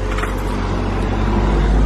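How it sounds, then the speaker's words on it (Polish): A camper van driving past on a road in Portugal, a steady loud rumbling roar that swells slightly as it nears, close by and filling the whole clip without any talk. "jedzie kamperek"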